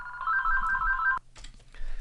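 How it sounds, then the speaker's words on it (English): Telephone ringing nearby during a software tutorial: an electronic two-tone ring trills steadily for about a second, stops abruptly, then faint softer ringing resumes amid background noise. "Sorry about the phone call."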